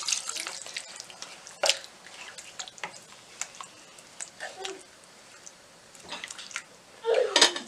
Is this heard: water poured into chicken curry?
yes